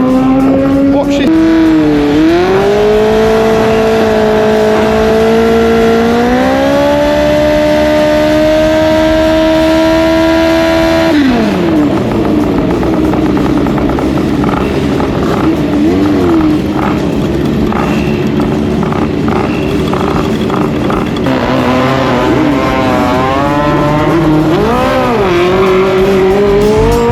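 Scooters of 50cc to 125cc drag racing make a loud, high engine whine that climbs through the gears, drops sharply and revs again, continuous and close throughout.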